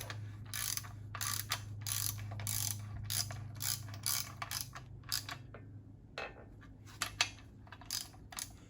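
A hand ratchet clicks in quick, repeated bursts while tightening bolts during a 1969 Mustang restoration, close and crisp, with short pauses between strokes and a low hum underneath.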